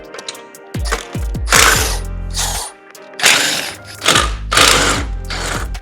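A ratchet wrench cranks loose the first crash bar bolt on an Audi Q5, giving bursts of quick, loud mechanical clicking close up, separated by short pauses and a few metallic knocks.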